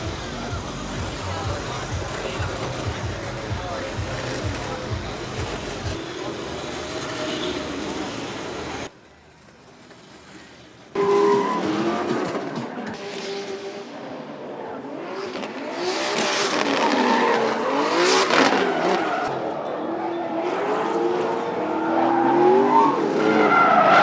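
Crazy carts drifting at a car show and drift event, tires skidding and squealing with buzzing motors, loud and continuous after a brief lull, with people talking over it.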